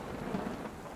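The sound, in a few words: thunderstorm and heavy rain sound effect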